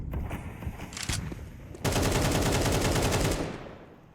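Bursts of AK rifle fire in a Counter-Strike match: a few short volleys, then a loud sustained automatic stream of rapid shots that fades out at the end, with no voices.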